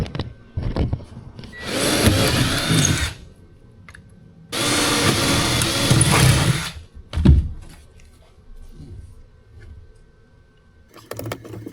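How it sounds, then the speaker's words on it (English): Two sustained bursts of a power drill whirring as it drills holes in a boat, a few seconds each with a short pause between, close by, followed by light handling clatter. "Just got to drill some more holes."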